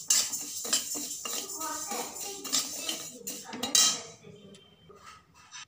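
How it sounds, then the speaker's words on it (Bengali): Mung dal dry-frying in a pan for sweet potato pithe, giving a steady close scraping and rattling with light metallic clinks of stirring that swell and ease over several seconds. "প্রথমে মুগ ডালটা ফ্রাই করে নেব।"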